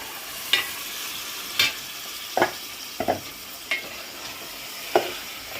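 Fish pieces going into masala paste frying for a fish curry, a faint steady sizzle punctuated by about seven separate spoon scrapes against the pan, spaced unevenly, close and quiet.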